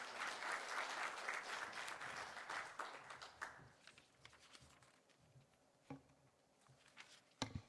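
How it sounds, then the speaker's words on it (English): Audience applause welcoming a keynote speaker at a conference, loud sustained clapping from a crowd that fades out after a few seconds, followed by scattered faint claps and room noise. "Please join me in welcoming Dr. with a big hand."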